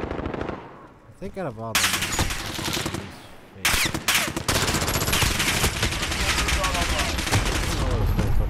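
Automatic gunfire in a Call of Duty: Modern Warfare free-for-all match, with loud, dense bursts of rapid shots firing almost continuously and someone talking over them.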